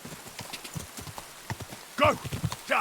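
Horse hooves clip-clop in a quick, steady rhythm in the video game Kingdom Come: Deliverance II, with a couple of brighter vocal bursts near the end.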